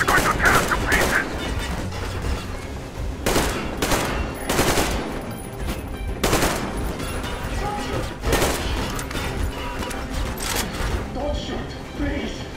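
Bursts of gunfire crack repeatedly in a Metro Exodus firefight, with six or seven loud shots and short volleys spread unevenly over the stretch and shouting voices in between.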